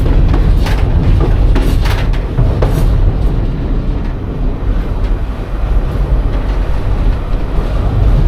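A Reading & Northern train rolls past close by, a loud, continuous rumble and rattle of wheels and cars filling the whole stretch, with no voices over it.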